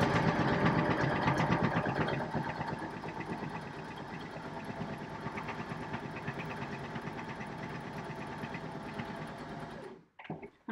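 Sewing machine stitching fabric with red thread, a fast, even mechanical chatter running steadily for about ten seconds, slightly louder at first, then stopping abruptly near the end.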